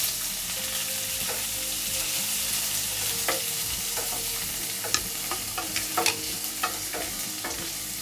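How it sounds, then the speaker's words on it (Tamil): Chopped onions and green chillies fry steadily in a pan for a chicken curry, a constant close sizzle broken by scattered scraping stirs that grow busier toward the end, with no voices. "வெங்காயம் கொஞ்சம் வதங்கட்டும்"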